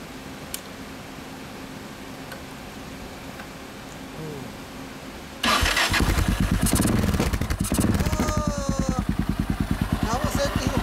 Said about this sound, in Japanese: ごめん、エンジン音聞かせてもらえますか。